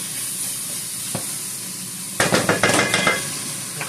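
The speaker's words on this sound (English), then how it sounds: "So we'll let that saute." Tomatoes sauté in a pan with a soft steady hiss, then a spoon stirs them in a quick run of scraping clatters that briefly raises the sizzle.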